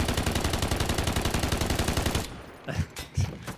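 Sustained automatic machine gun fire from the Delta Force video game during an esports tournament match: a rapid, evenly spaced stream of loud shots for about two seconds, then stopping, followed by a few scattered softer thuds.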